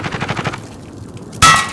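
A rapid rattle of video-game gunfire fades out, and after a short lull a single loud, sharp sniper shot cracks with a ringing metallic tail. There is no speech.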